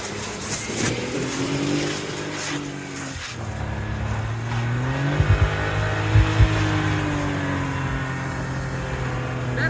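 Jeep engine revving in snow, rising and falling throttle blips at moderate distance, with a few sharp knocks in the second half over a steady engine hum.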